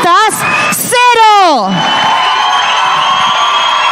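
A stage-show audience at a parody performance whoops and cheers in rising shouts, then breaks into sustained, loud applause that fills the room.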